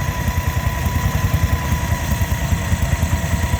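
A Kubota 14 horsepower engine with electric start, running at a ploughing day: a close, steady idle with an even, rapid low thumping pulse and no voices.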